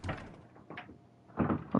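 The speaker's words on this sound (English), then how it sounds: "I'll enter the door on my left this time" A door opening in The Stanley Parable, a couple of soft wooden thumps and a brief creaking scrape followed by a louder clunk, close and dry with no talking.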